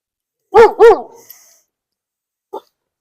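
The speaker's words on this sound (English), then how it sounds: "Barking dogs are always present." A neighbourhood dog on an autumn walk in Regina barks twice in quick succession, loud and close, then gives one short faint yip after a pause.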